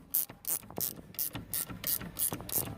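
A spring compressor tool is run in on the steering column of a 1993 Chevy K2500 during a turn signal switch install, giving a quiet series of about eight rhythmic ratcheting click bursts.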